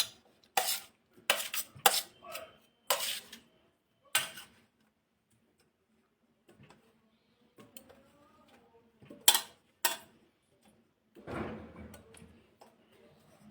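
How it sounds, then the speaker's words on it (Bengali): Chopped tomatoes, two medium ones, being stirred into chhana curry in a pan, giving a series of close metallic clinks and scrapes of a utensil against the pan in bursts, with a softer rustling stir near the end. "এর সঙ্গে মিশিয়ে নিচ্ছি কুচি করে রাখা টমেটো"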